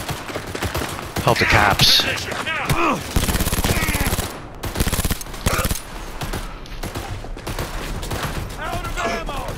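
Rapid pistol gunfire in the video game Cyberpunk 2077, repeated bursts of sharp shots in quick succession amid game effects, with a voice speaking in between.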